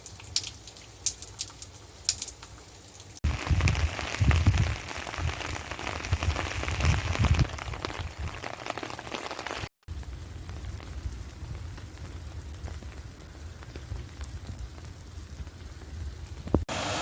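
Steady rain falls into an outdoor pool during a heavy Easter weekend storm in metro Phoenix, a continuous hiss of drops on water that swells louder mid-way, then settles into an even patter, with faint birdsong in the background.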